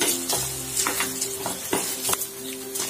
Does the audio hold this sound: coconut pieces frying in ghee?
yes